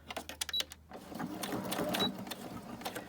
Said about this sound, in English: I just like to do a back stitch so that's held neatly or held, you know, firmly in place